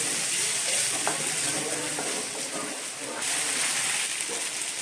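Soaked chana dal sizzles and crackles in a hot pan while being stirred, a loud, steady frying hiss with occasional scraping of the spoon, close by and with no talking.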